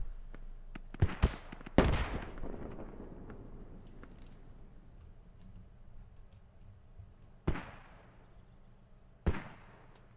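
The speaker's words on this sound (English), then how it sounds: "Mortars coming down now." Finnish mortar shells land in a tactical shooter match: a few sharp blasts near the start trail off into rumbling decay, and two more isolated impacts follow later. Fairly faint overall, with no talk.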